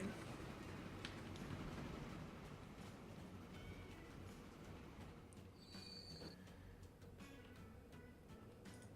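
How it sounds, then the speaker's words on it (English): A train pulls into a station in the Transport Fever railway game during its 1895-96 European freeplay era, with a steady loud rolling rumble, wheel squeal and high metallic screeches rising toward the end, no voices over it. "And here comes the train."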